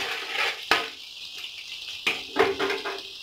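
Cumin and cinnamon fry in hot oil with cardamom for paneer butter masala, a steady close sizzle broken by a few sharp clanks of a spoon against the pan.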